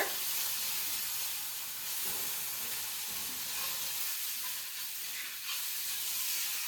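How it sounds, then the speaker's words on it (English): A mixture of salt, black pepper and sugar gets a quick stir, a steady close hissing, scraping texture with faint rhythmic swirls and no talk. "I'm just gonna add that to my mixture and give it a quick stir"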